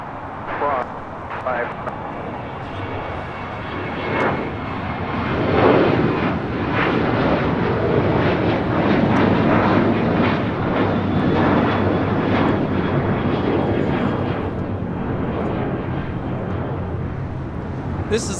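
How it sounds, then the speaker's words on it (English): An American Airlines Boeing 737-800 takes off at LAX, bound for Austin: a loud, sustained jet engine roar that swells and holds steady throughout, with voices talking over it. "This is American Airlines Flight 539 taking off to Austin, Texas on a 737-800"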